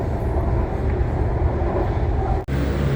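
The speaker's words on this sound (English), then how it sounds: "So we're pulling up to the station and taking off in a matter of seconds." Inside a Bangkok BTS Skytrain carriage, a loud, steady rumble of wheels and motors continues as the train pulls into a station, with a brief sharp dip near the end.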